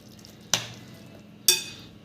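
A spoon stirs grated carrot into semolina batter for a savoury handvo in a pan, giving two brief, sharp scraping clinks about a second apart over a quiet background.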